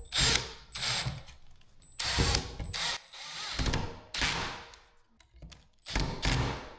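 A cordless power drill drives ceiling fan mounting screws overhead in several loud, close bursts of whirring, each lasting under a second, separated by short pauses and occasional clicks.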